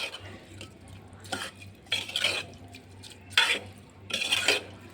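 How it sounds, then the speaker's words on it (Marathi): Chole pulav being stirred in a pot with a spoon, producing four scraping, clinking bursts of utensil against metal at a steady rhythm over a low constant hum, close and moderately loud. "आता व्यवस्थित मिक्स करून घेणार आहे"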